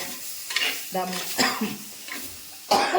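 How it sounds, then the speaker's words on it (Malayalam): Tomatoes frying in hot oil in a pan for a Kerala tomato curry, with a soft sizzle under repeated stirring and scraping bursts of a spoon against the pan, close and moderately loud. "തക്കാളി ഇട്ട് കൊടുക്കാം തക്കാളി മൂപ്പിച്ചങ്ങ് വെന്തോടെ എണ്ണ ഈ എണ്ണയ്ക്കകത്ത് കിടന്ന് ജസ്റ്റ് ഒന്ന് മൂത്താൽ മതി"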